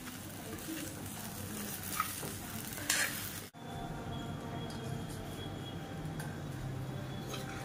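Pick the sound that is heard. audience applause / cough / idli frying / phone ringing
idli frying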